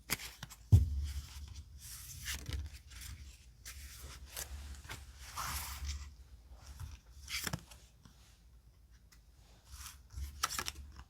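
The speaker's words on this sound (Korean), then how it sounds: "카드 5장을 선택해 볼게요" Tarot cards are shuffled and five are picked during a reading, heard as soft, close, intermittent riffles and slides with quiet pauses between them.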